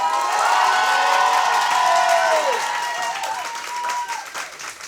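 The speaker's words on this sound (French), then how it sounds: "Merci pour l'applaudimètre, merci." Applause and cheering from the audience at an improv theatre workshop show, loud and sustained with whoops and voices through the crowd, easing slightly in the second half.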